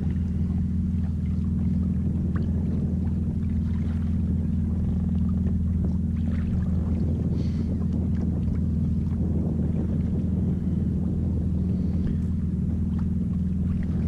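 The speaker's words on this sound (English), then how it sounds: "And there's the boat over there." A fishing boat's engine hums low and steady as it comes to collect fish nets, with faint splashing and wind noise over the water.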